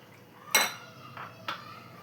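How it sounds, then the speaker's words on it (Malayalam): Boiled milk is mixed into a cocoa powder and biscuit mixture in a bowl, giving three quick clinks and scrapes of a spoon against the dish in an otherwise quiet kitchen. "നമ്മൾ ബോയിൽ ചെയ്ത് വെച്ച പാലിൽ നിന്ന് അല്പം എടുത്തിട്ട് ഇതിലൊഴിച്ചൊന്ന് മിക്സ് ചെയ്തെടുക്കാം"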